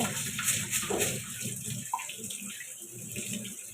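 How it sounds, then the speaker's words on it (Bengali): Popcorn kernels are washed in water, swished and rinsed nearby with a soft, continuous splashing and trickle, fairly quiet and without talk. "আমি এগুলোকে একটু ধুয়ে নিব"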